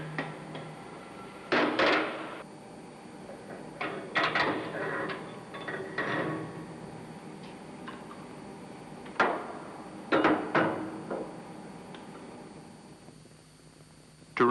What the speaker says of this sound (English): tap it lightly with a tin hammer